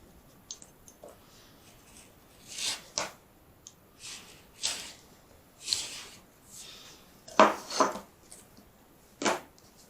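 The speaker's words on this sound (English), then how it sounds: "it will cut that leather." A sharp open knife cuts through leather for a knife sheath dangler, making scattered soft slicing and scraping strokes with quiet gaps in between, close and fairly faint.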